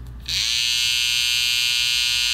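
A Caliber Laser+ cordless hair clipper switches on with a click and then runs with a steady, high-pitched buzzing hum, close and continuous.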